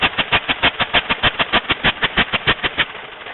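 A 1909 Chase truck engine runs with a steady, rapid chugging pulse of even beats, close and fairly loud, tapering slightly at the end.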